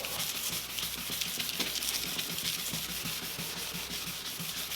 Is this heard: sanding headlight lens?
yes